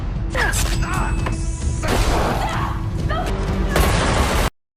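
Gunfire in a brutal Indonesian action film erupts as a loud, dense barrage of shots and impacts, with thuds and mechanical clatter under shouting voices, ending abruptly.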